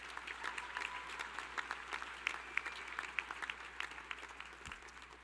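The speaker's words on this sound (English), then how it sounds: "would you please join me in a round of applause recognizing these 6 individuals?" A high school graduation audience applauds in a large hall, the clapping sounding distant and fairly soft but steady, with sharper individual claps popping out from the crowd.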